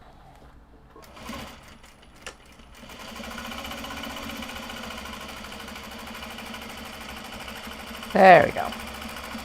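Sewing machine stitching a seam on a Japanese fabric crossbody sling, starting after a couple of quiet seconds and running as a steady close motor whir with needle chatter; a brief spoken remark comes early and a louder clunk near the end.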